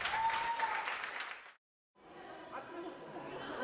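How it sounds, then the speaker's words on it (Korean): Enthusiastic clapping from a group, breaking off briefly into silence and then resuming slightly softer with some murmuring. "뜨거운 박수를 보냈습니다."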